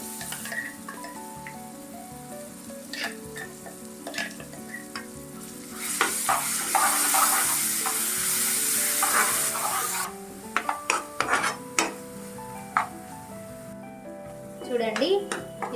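Onion paste frying in oil in a pan, a continuous close sizzle that swells loudly for several seconds when the paste hits, with intermittent stirring clinks and scrapes, and occasional background voices.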